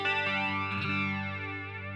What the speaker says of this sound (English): Flange.